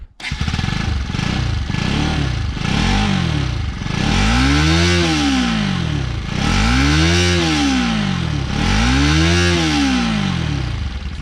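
A Bajaj Pulsar 200 NS motorcycle engine revs loud and close, first in several short quick blips, then in three long swelling revs that climb and fall, with no talking.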